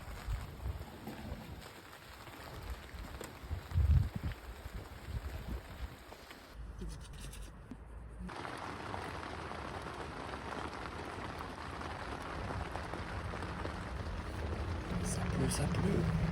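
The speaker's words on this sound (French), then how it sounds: "Là on a juste un peu de pluie, le vent il s'est calmé." Light rain and gusting wind beat on a tent at night during a road trip, a steady hiss with buffeting microphone noise and a brief lull partway through, while a person talks over it.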